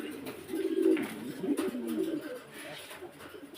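Pigeons at a pigeon farm coo close by in soft, rolling, throaty calls that overlap continuously with no talking.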